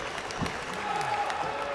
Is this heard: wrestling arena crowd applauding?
yes